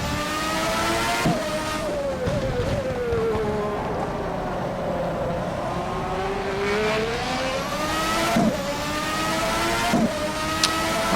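A 1992 McLaren F1 car in rFactor 2 screams at high revs round Imola, its pitch sweeping up and down through gear changes and corners, loud and continuous with brief sharp shift blips.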